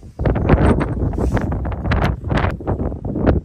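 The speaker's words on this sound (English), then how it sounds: "It's very windy though." Gusty March wind blowing outdoors on a homestead walk, buffeting the microphone in loud irregular surges for a few seconds with no speech.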